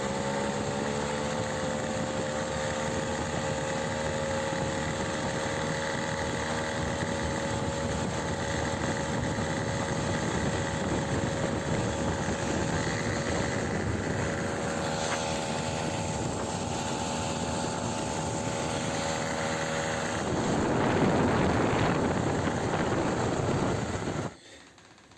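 A Motobécane AV85 moped engine runs steadily on a road test after a service, a loud continuous buzzing two-stroke drone that swells briefly near the end and then cuts off.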